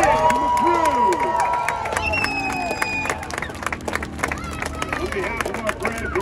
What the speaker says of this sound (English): Can I hear a round of applause for my friends in the back, the pit, and the crew?